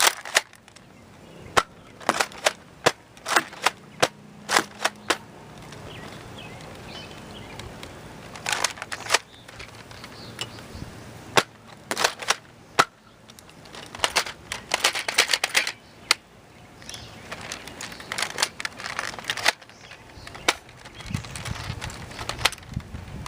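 A Nerf blaster fires Buzzbee foam darts, giving a series of sharp, quiet snaps and clacks at irregular intervals over soft handling noise, with no talking.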